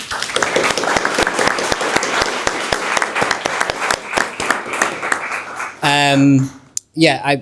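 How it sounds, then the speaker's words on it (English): An audience applauds at a documentary screening, with brisk, close clapping for several seconds that fades as a person begins speaking near the end. "So before we even start, a round of applause for Adam."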